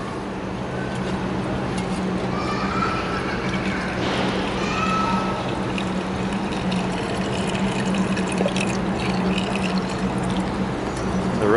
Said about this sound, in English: it's recirculating nicely